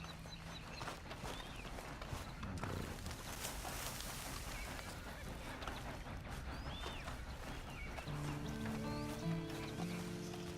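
Horse hooves clip-clopping in the video game Red Dead Redemption Online, a steady trotting patter mixed into a busy ambience with birds and a swelling musical score near the end.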